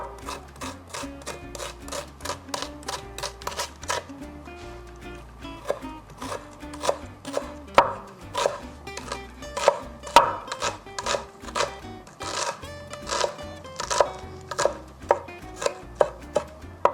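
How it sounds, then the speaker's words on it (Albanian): A knife chops onions very finely on a board, with rapid, steady, crisp taps repeating close up, occasionally pausing, then resuming in quick runs with no talking. "Qepët do t'i presim shumë holl,"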